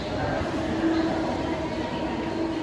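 A Mumbai local train rolls in with a steady low rumble and rail drone, with a squealing tone rising briefly above it, and people talking faintly in the crowded station.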